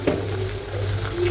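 Tuna pickle masala with kudampuli being stirred in a hot pan, a steady, close sizzle with soft scraping from the stirring throughout.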